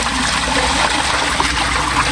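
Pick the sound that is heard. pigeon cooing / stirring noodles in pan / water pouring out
water pouring out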